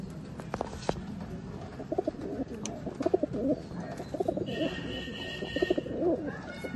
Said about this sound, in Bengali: দেখুন বন্ধুরা, লুক দেখুন পায়রা